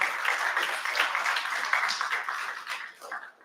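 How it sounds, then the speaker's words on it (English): Audience applause at a valedictory session of a media conference, sustained clapping at moderate distance that fades out toward the end. "So big round of applause for the Professor Johari and his team."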